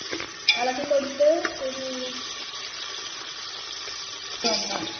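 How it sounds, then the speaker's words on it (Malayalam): Onions sizzle in a pan for a beef curry while being stirred, with a steady frying hiss, a few scraping stirs near the start and end, and a person speaking briefly over it. "ഉള്ളി ഇട്ട്. ഓക്കെ, ഉള്ളി ഇടണം. ജസ്റ്റ് ഒന്ന് ഇളക്കി കൊടുക്കാം."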